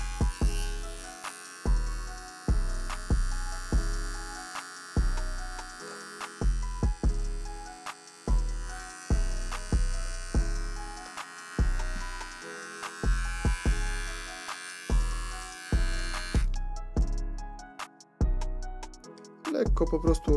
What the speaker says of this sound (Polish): suche ostrza, włączam maszynkę.